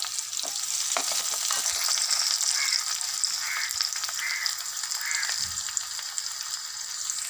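Onion, chopped chillies and garlic frying in a pan as they are stirred, a steady close sizzle with scrape-and-tap stirring sounds and a few faint background bird calls, no talking.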